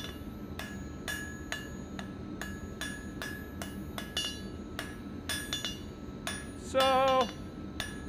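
A hammer beats hot metal on an anvil while a fire poker is forged, each blow a bright ringing clang in a fast, uneven rhythm, close by, with a brief spoken word and a metallic ring near the end.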